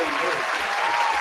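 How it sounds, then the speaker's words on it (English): A studio audience on a talk podcast breaks into loud, dense applause that holds steady through the whole short stretch. "Give me a round of applause."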